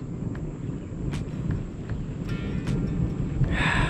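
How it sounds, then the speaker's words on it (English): Thunder rumbles low and steady while rain begins to approach during an outdoor bass fishing trip, with a few faint sharper crackles and a hiss of rain building near the end. "I can hear the rain coming."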